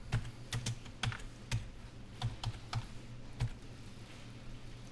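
Keys clack on a computer keyboard as a short name is typed, a dozen or so quiet, close clicks in uneven bursts with no talking.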